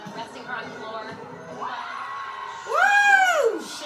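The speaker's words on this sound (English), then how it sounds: "Her team's cheering" Gymnastics team cheering and whooping at a Utah versus Stanford meet, a crowd of young voices swelling into a loud rising shout near the end.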